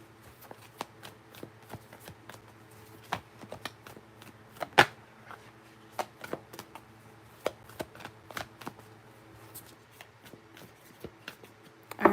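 Tarot cards shuffled by hand, a quiet irregular run of soft riffling snaps and taps, close and faint, with a low steady background hum and no voices.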